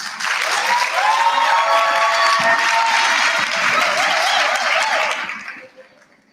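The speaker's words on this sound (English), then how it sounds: "Let's give a good round of applause." Sustained applause from a sizable crowd at a student council induction ceremony, loud and steady for several seconds before tapering off, with some cheering voices mixed in.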